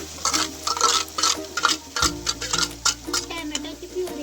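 Tomato puree frying in oil in a pan for paneer tikka masala, stirred with a spoon in repeated scraping strokes over a low sizzle, close and fairly loud.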